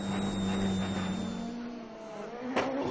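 A WRC rally car at speed on a stage of the 2011 Rally Italy: a high-revving engine whines loudly as it approaches, the pitch dropping as it passes, then a sharp burst of gravel or wind noise as it flies by.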